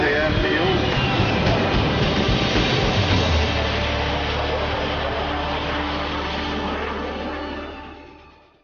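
Antonov An-225 jet aircraft at the Paris Air Show at Le Bourget airfield, a loud, steady jet roar with a low rumble that holds for several seconds and then fades out. Faint voices may be mixed under the engine noise.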